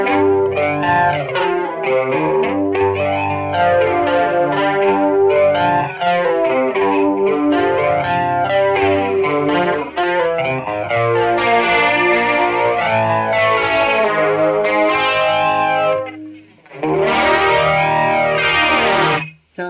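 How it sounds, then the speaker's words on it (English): Electric guitar with a sweeping flanger effect, dense chords swirling continuously, briefly dropping out near the end before returning. "let's go ahead and put the flanger on"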